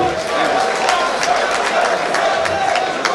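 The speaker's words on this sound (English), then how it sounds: "Please a round of applause for him." A crowd applauding, a dense steady patter of clapping hands lasting throughout, fairly loud and close.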